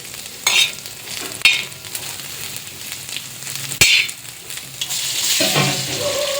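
Radish fries in a pan with a steady crackling sizzle, punctuated by several sharp stirring clatters and scrapes, and the hiss swells louder toward the end; no voices.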